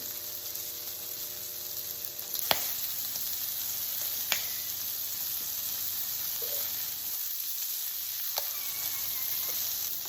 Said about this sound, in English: all we're gonna do is cook the shrimp until they're done